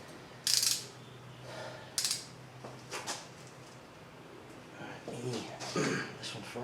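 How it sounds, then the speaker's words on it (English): A torque wrench tightens cam cap bolts on a 2006 Subaru Outback engine in a garage, giving a few sharp ratcheting clicks and metallic bursts spaced across the clip, fairly close, with quiet talk between. "we're going to go back to torquing the rest of this, a perimeter sequence here"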